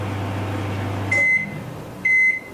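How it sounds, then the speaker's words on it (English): Microwave oven set to its bake cycle gives two clear electronic beeps about a second apart after a low running hum stops, close and alone with no talking. "So put the ingredients in the microwave, push the bake counter button"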